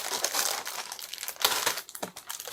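Scrapbooking die-cut packaging being opened by hand, with close, continuous crinkling and crumpling of plastic and paper in irregular bursts and rustles, no talking over it.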